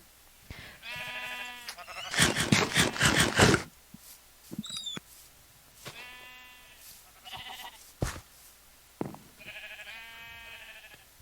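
Repeated bleats from a thunder sheep in the Minecraft video game, harmonic calls coming in several bursts with a loud, crackling noisy stretch early on, fairly close and with no talk.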